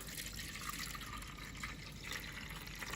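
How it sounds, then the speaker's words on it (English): Water slowly poured off the top of settled white bean paste (shiro-an), a steady soft trickling stream running continuously, close and fairly quiet, with no talking. "Be careful not to drain the bean paste."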